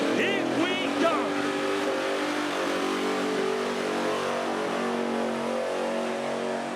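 A dense, sustained car engine roar from the XP Falcon called Warbird launching into a burnout at Summernats, loud and steady with rising revs near the start and a crowd announcer talking over it.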